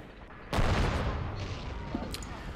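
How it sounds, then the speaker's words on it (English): A mortar fires in the war game Men of War: Assault Squad 2 with the Rising Sun mod: one sudden loud boom that rolls into a sustained, rumbling wash of battlefield noise with scattered distant gunfire, and no voices. "Looks like our mortar's firing out."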